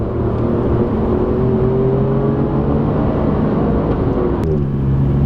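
An Alfa Romeo Giulia Quadrifoglio engine and exhaust hum at a steady, loud level with a sustained tonal drone that shifts slightly in pitch as it runs. It sounds like a continuous cruise rather than sharp revs, and no voices are heard.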